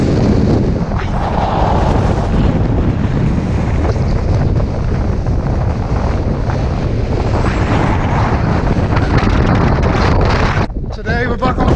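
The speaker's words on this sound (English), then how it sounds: "it's windy yet again" Strong, steady wind roars and buffets the microphone on the summit of Carnedd Dafydd in Snowdonia, loud and continuous throughout, cutting briefly near the end.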